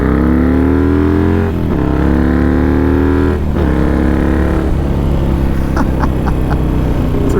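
Harley-Davidson Iron 883 motorcycle converted with a 1275 big-bore kit and performance cams, accelerating hard through the gears, its loud close engine note rising in pitch, dropping at each shift and climbing again, with no voices.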